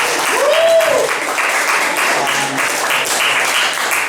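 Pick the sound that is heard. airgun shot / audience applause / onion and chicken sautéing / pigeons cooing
audience applause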